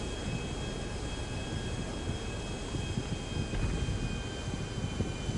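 An unarmed fighter jet in GTA V Online drones in a steady, broad roar with a faint high whine above it, continuous and unbroken, with no speech.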